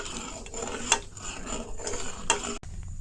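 A spoon mashes and stirs soaked sago with milk in a pot, producing steady soft scraping and squelching with a couple of louder metallic clinks, close by.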